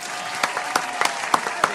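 Audience applause at a live show, brisk scattered clapping from a modest crowd at moderate distance, with sharper individual claps popping out over a continuous patter, no speech.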